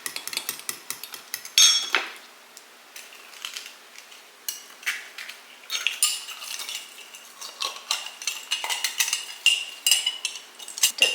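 A metal utensil clinks and scrapes against a bowl, stirring eggs into a flavored coconut oil mixture in quick irregular bursts of bright tapping, close and alone with no talk.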